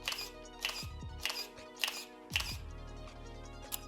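Camera shutter clicks during an outdoor model photoshoot in Portugal using a ten-year-old camera: several sharp, close clicks spaced about half a second apart over a steady low background hum.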